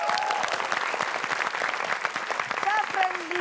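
Studio audience clapping throughout at a comedy talk show, dense close applause with a few voices briefly speaking over it near the end.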